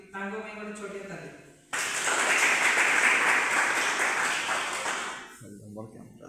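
An audience at a midnight Christmas celebration bursts into applause after singing and talk stop, a loud broadband wash of clapping that holds for several seconds and then fades as speech returns.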